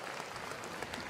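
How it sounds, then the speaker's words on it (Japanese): Spectators applauding at a USA versus Japan softball game, a steady wash of crowd clapping heard from a distance across the stands, filling the whole short moment with no one speaking. "拍手が起こっています。"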